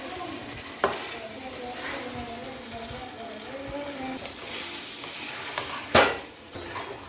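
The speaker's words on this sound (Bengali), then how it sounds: "এই যে মাংসটা কষানো হয়ে গেছে, এই যে তেল ছেড়ে এসেছে দেখুন বন্ধুরা।" Chicken curry sizzling in oil in a pan as it is stirred, soft crackling frying with spoon scrapes and a couple of sharp clanks against the pan, close and fairly quiet.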